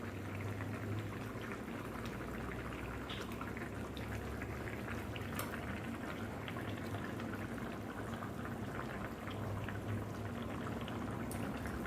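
Fish pieces drop into a pot of boiling curry broth, a steady low bubbling and sizzling simmer heard close and continuous, with faint splashy pours and no talking.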